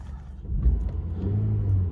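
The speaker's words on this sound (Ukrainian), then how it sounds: "Заводиться взагалі з півоберту." A Volkswagen Golf 4 engine starts and settles into a low, close rumble, rising briefly and then holding a steady running drone, with no talking.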